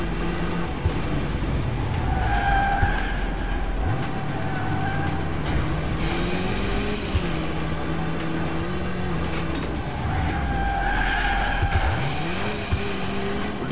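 Cars in Alarm für Cobra 11 Burning Wheels brake hard with screeching tire squeals over a droning engine. The loud skids come in repeated bursts as the engine note drops and climbs again between stops.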